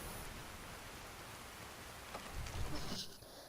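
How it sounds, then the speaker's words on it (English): Rain in modded Skyrim with the True Storms mod, a steady faint wash of rainfall that swells briefly with a soft rumble before easing, no talking. "the rain is looking a little different than it might usually. In vanilla anyway. I have true storms"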